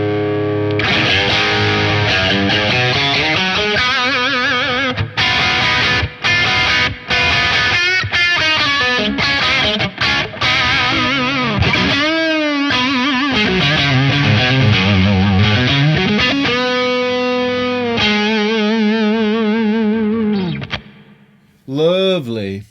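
An electric guitar played through Snake Oil Fine Instruments gear rings out with distorted, chorus-like effected tone, sustained chords and bending notes filling the clip, ending in a short pause and a final strum.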